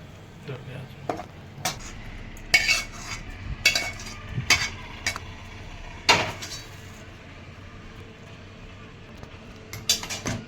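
Metal spoon scraping and clinking in a pan as coriander is stirred into jeera aloo, a series of sharp scrapes and taps over a low background hum, close and fairly loud.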